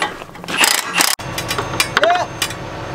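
A wrench works a bolt on a turbocharger during a sprayer repair, giving a few quick metallic ratcheting clicks and clanks close by, amid short bursts of background noise.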